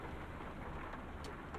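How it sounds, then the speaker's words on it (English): Steady rain falls in the Euro Truck Simulator 2 video game, a dense even patter heard alone for a brief moment. "And this rain's not enough coming down, is it?"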